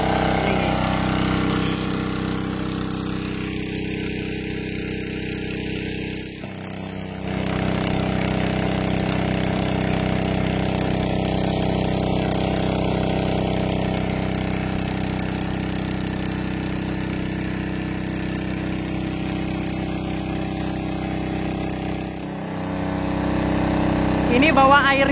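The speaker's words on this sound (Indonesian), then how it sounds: "Nih mesinnya pakai mesin Robin." A Robin engine drives a water pump for garden irrigation on a Japanese vegetable farm, droning steadily and loud up close, with two brief dips partway through.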